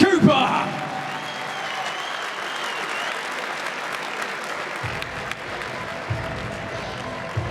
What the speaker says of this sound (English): round of applause for your winner, Lloyd Cooper.